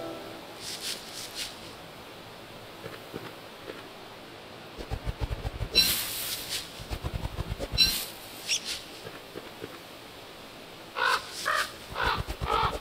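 Crows cawing in the video game Don't Starve, several harsh calls in bursts, some loud and close, others fainter, with scattered game sound effects between them and no talking.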